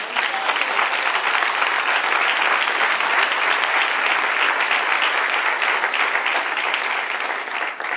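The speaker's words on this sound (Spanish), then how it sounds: "Denle un aplauso al Señor" A church congregation applauds loudly and continuously, a thick wash of many hands clapping without pause for the full stretch, close and sustained.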